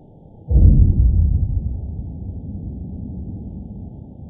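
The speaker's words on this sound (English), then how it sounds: "that sound was caught on a hydrophone and it is coming from an underwater oil rig" A big underwater boom from an oil rig, picked up by a hydrophone: one deep, muffled low-frequency thump that swells suddenly, then rumbles and slowly fades into a dull undersea wash, with no talking.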